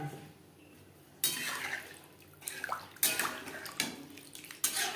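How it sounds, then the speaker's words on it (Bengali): Water is poured into a pot of moong dal in a few separate bursts of splashing pouring, close and moderately loud, with quiet gaps between them and no voices. "আর দিয়ে দেবো পরিমাণ মতো জল"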